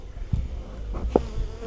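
Honey bees buzz around an opened hive in a bee yard, with a close, steady insect drone and a few brief louder passes, no voices.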